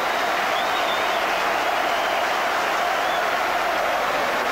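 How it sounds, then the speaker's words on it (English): Dense, steady applause from a large stadium crowd at a 1988/89 Liverpool v Manchester United football match, a continuous wash of clapping heard from a distance. "The applause is partly for the departure of John Aldridge"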